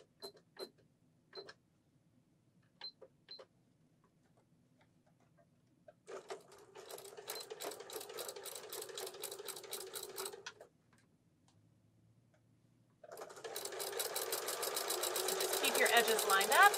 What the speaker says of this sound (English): and we're just straight stitching